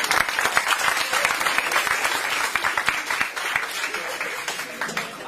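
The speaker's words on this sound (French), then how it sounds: "On peut l'applaudir." An audience applauds warmly at a French theatre rehearsal, steady dense clapping filling the room throughout, with a few scattered voices faintly mixed in.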